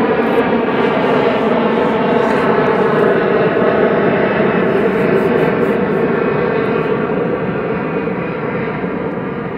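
A Boeing airliner passes overhead at an outdoor festival, a steady loud engine roar sustained throughout without fading, no voices.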